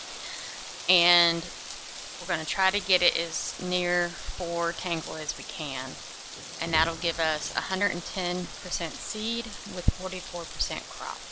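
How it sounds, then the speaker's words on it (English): Steady rain patters across a virtual world in the video game Boundless, a constant soft hiss running beneath someone talking throughout. "So pardon the rain."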